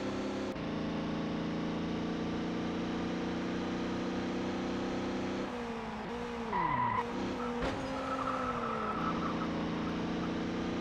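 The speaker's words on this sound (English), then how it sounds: "Don't start sliding now, you son of a bitch" Touring race car in TOCA World Touring Cars sliding under pressure from a tailgating rival: a steady engine drone gives way to a wavering, bending tyre skid with squealing tones and a brief clunk, then the engine settles again.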